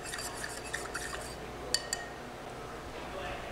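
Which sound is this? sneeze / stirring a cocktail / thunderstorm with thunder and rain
stirring a cocktail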